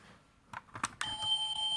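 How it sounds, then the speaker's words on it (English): Toy BMW X6 car sounding its door-open alarm: a few soft clicks, then a steady high electronic tone begins and holds, close and alone. "as soon as you open the door, makes a sound as well. Like the alarm is going off."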